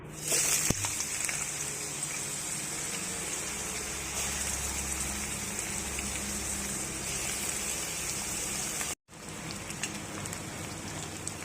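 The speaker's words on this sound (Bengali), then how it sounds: "এখন আলুগুলো ভেজে নেব।" Potatoes fry in hot oil in a pan during fish curry cooking, a steady loud hiss and crackle that fills the clip with a brief cut near the end.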